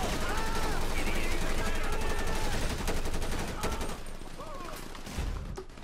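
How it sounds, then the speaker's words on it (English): Heavy, rapid gunfire in the video game mod LSPDFR rattles continuously in dense volleys, loud and close, with a voice speaking briefly beneath the shooting. "Oh man, that's heavy gunfire."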